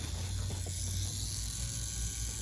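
InkClaw Challenger tattoo machine pulling lines with a round liner at about 7.5 volts, a steady close buzzing hum with a fine rapid mechanical rattle, running alone and unchanged throughout.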